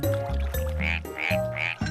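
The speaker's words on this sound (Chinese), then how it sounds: "怪欸，青蛙" Frog croaking, several loud, close, rhythmic croaks in quick succession, each a low buzzing pulse followed by a higher nasal call.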